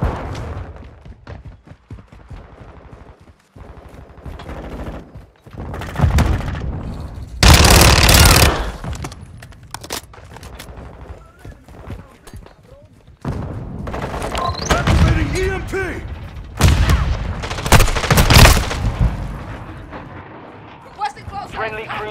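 Bursts of automatic gunfire and heavy blasts in Call of Duty: Modern Warfare II come in loud clustered volleys between quieter stretches, with game voice callouts heard alongside the combat.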